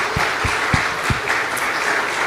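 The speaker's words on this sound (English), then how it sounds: "Let's give them a round of applause." Audience of parents applauding recital students at a winter music recital, a steady dense patter of clapping with a few louder thumps near the start, fairly loud and without talk.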